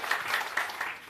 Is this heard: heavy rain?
no